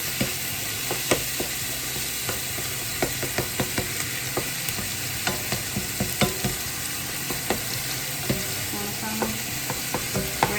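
Meat frying in a tablespoon and a half of oil in a pan for dirty rice, a steady close sizzle punctuated by regular scraping clicks of a utensil stirring.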